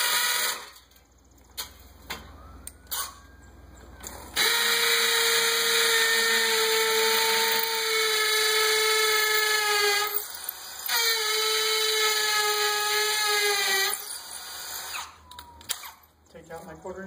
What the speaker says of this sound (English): The top hole, I'm going to pre-drill with my 1/4-inch bit.